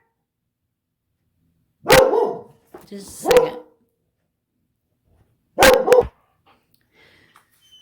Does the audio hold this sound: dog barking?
yes